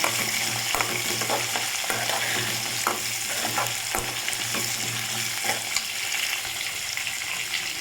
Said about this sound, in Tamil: நம்ம மூணு வரமிளகா வச்சுருந்தோம் அதை சேர்த்துக்கலாம் சேர்த்து நல்லா வதக்கிக்கலாம்